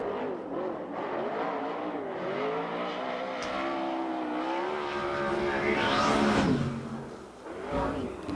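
A USAC/CRA sprint car runs laps on the Perris Auto Speedway oval, its engine a loud sustained roar that rises and falls in pitch as it accelerates past, with a strong surge near the end.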